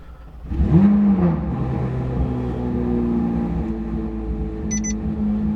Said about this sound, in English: let's do an interior cold start